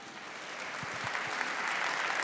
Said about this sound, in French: Je vous demande tout de suite, en tout cas, d'applaudir très très très fort tous les artistes.